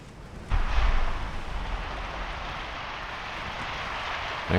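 Battleship gunfire in the naval video game Ultimate Admiral Dreadnoughts: a deep cannon boom half a second in, then a long rumbling roar that slowly fades, with another blast starting at the very end.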